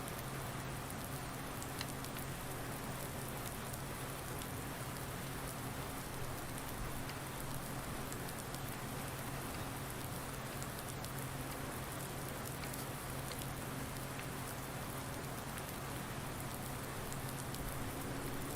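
Steady rainfall in the farming game Farming Simulator 19, set in Delta Junction, Alaska, a constant soft hiss of drops on surfaces with a low hum underneath, unchanging and fairly quiet throughout.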